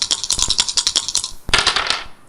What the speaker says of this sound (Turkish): Hadi bakalım döndürelim zarlar.